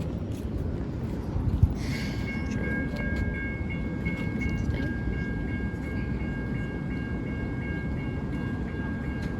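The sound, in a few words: light rail train 315 passing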